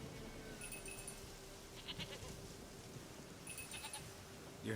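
A goat bleats in The Witcher 3 video game, giving a few short, faint bleats over a steady low game ambience and hum.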